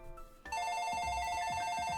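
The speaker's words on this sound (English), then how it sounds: "The phone on the desk began to ring and Byromo picked it up." An in-game desk telephone rings with a steady electronic trill that starts abruptly about half a second in and continues loud and sustained, with faint low rumbling beneath.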